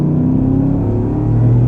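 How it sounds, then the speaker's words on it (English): A 420-horsepower V8 engine in a 2016 Cadillac Escalade rumbles and revs up under acceleration, a steady low growl that rises in pitch near the end, heard from inside. "it is a V8 engine with 420 horsepower, and you can hear that a little"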